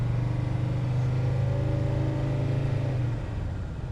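A 1978 Mercedes W123 300D diesel with automatic gearbox pulls away uphill, its engine giving a steady, low, droning hum that holds close and even, then eases off slightly as the gear shifts.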